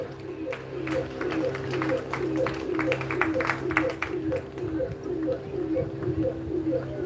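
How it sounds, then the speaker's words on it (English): Spectators at a velodrome bike race give a scattered, fairly faint round of clapping for a cyclist rolling past, with outdoor crowd murmur and chatter mixed in. "let's give a warm round of applause for Tom Puzak"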